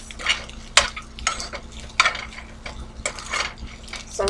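Eggs cooking in a pan while a utensil stirs and scrapes them in irregular strokes, with a soft sizzle beneath the close clatter of metal against the pan.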